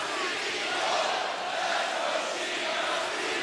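Large wrestling crowd at an AEW event in Chicago cheering and roaring steadily, a dense, continuous wall of noise with no break across the moment.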